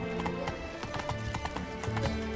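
Roach, Geralt's horse in The Witcher 3: Blood and Wine, gallops with a steady run of hoof clip-clops and a brief whinny, all over a continuous game music bed.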